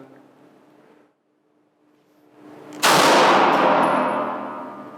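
A single loud handgun shot fired during a shooting drill, an abrupt close crack with a long ringing decay after a short quiet lead-in.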